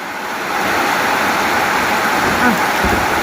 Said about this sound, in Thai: ฝนตก จ้า เอาฝากเสียงให้ปลาลุง